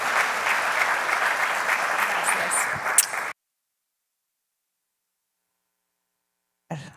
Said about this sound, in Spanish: ¿Por qué no le damos un fuerte aplauso a Chris?